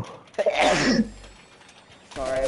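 A single sharp sneeze bursts out during a Fortnite match, followed by a short pause and then a voice starting to speak.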